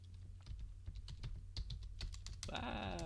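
Fingers typing on a computer keyboard, a quick irregular run of close, crisp key clicks, with a brief voice entering near the end.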